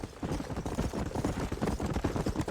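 Horse hooves clip-clop at a steady trotting rhythm on a path in the Western video game Red Dead Redemption, a continuous close patter of hoofbeats with no voices over it.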